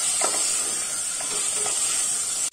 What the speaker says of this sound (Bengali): মই চিকেন খিনি এটা ধুনিয়াকে ফ্রাই করে লম